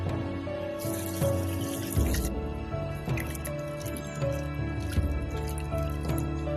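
Sliced bamboo shoots rinsed under a running tap into a sink, with a steady splashing water stream and small squishy handling noises throughout.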